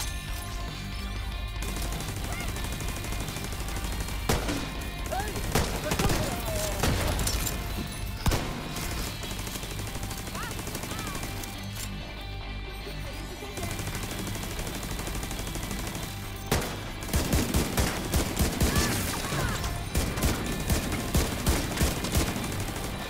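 Turret gunfire in The Division 2 rattles on loud and close, dense automatic bursts layered with other gunfire and booms throughout, ending in a run of rapid sharp shots.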